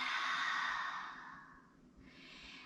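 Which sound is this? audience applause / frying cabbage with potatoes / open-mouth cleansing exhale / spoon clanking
open-mouth cleansing exhale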